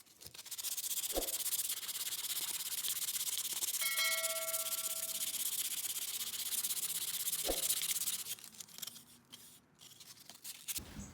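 A homemade spatula handle is sanded by hand with steady, close rasping strokes of sandpaper against wood. There are a couple of brief knocks and a faint ringing tone midway, and the rubbing turns softer and irregular at the end.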